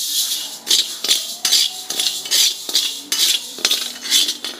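Raw rice dry-roasting in a pan, stirred with a metal spoon: repeated scraping clinks and rattling grains in a steady rhythm, close and clear with no talk.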